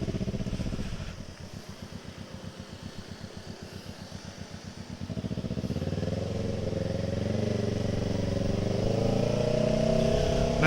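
A Kawasaki ER6N motorcycle engine idles with a steady, rapid low pulsing, then revs up and holds a louder, rising drone close by.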